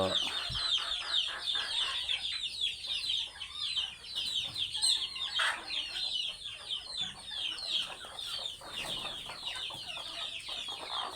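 Native (deshi) hens clucking repeatedly while penned in during heavy rain, a rapid busy chorus of clucks over a soft wash of rainfall, fairly faint and continuous throughout.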